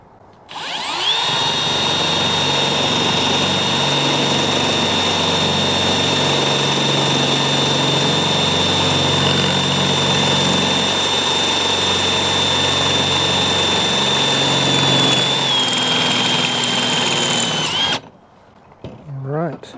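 A power drill with an oiled bit bores through metal, a loud sustained whine with a steady high tone for most of the run, then it cuts off abruptly, leaving brief quiet and a faint sound.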